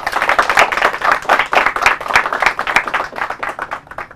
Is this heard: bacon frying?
no